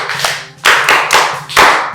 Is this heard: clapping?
yes